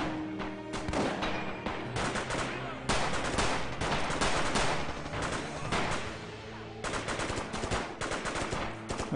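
A booby-trapped grenade goes off in the Red Orchestra 2 Rising Storm game amid loud, dense gunfire and explosive bursts, continuous and punchy through the whole stretch with no talking.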